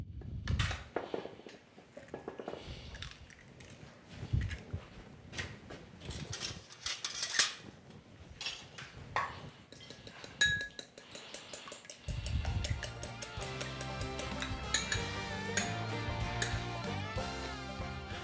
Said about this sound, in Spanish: vamos a batir el huevo